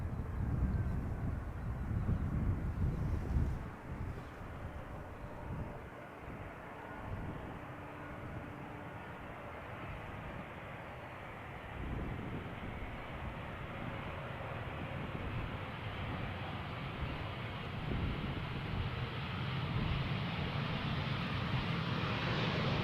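A KLM Embraer 190 jet arrives at Schiphol from London City, a faint, distant engine rumble that swells gently and drifts on at low level without any voices.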